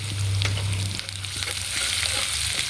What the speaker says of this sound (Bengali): আদা বাটা দিয়ে এটাকে হালকা করে একটু ভেজে নেব।